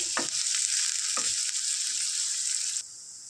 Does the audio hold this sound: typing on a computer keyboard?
no